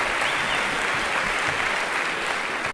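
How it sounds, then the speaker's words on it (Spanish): An audience at a comedy show applauding, a dense and steady burst of clapping from a full room that lasts a few seconds before cutting off. "Un fuerte aplauso para todos ustedes, por favor"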